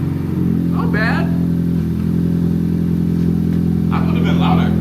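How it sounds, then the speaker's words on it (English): Acura Integra engine idling with a Remark exhaust removed down to the catalytic converter only, open pipe after the cat: a steady, loud, low rumble close by, with people talking over it. "We're gonna start the car."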